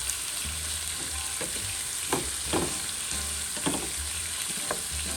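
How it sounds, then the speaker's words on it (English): Linguiça sausage sautéing in a pan, a steady bright sizzle and crackle throughout with a few louder stirring scrapes and pops, close and alone with no talk. "I'm gonna let that saute for a little bit before going to the next step"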